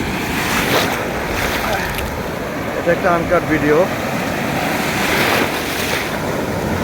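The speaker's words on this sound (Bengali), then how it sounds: "কি বিশাল বিশাল ঢেউ এগিয়ে আসছে" Large ocean waves roll in and crash at Cox's Bazar beach, a loud continuous surf roar with heavy wind buffeting the microphone, while someone speaks briefly over it.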